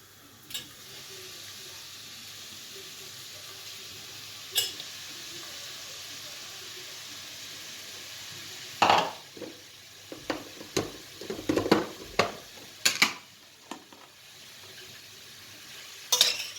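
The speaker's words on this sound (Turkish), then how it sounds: "Çorbamızın ıspanağını ekliyoruz." Spinach going into a pot of lentil soup base with oil and tomato paste, a soft sizzle under clinking spoon strikes and stirring scrapes that come in a quick irregular cluster, close and fairly quiet.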